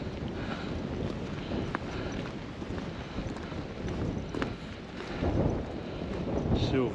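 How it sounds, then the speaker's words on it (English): Strong wind buffets the microphone with a continuous rough roar that swells toward the end. "Still very windy."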